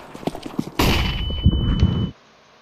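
In Counter-Strike 2, a flashbang grenade goes off with a sudden loud burst, then a sustained ringing, buzzing tone with a thin high whine that holds for over a second before it cuts out.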